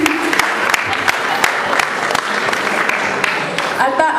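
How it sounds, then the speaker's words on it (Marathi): A hall audience at a Gudi Padwa cultural program claps after a dance performance, a dense sustained round of applause with a voice speaking over it near the end. "परत एकदा टाळ्या वाजवून त्यांचे कौतुक करूया"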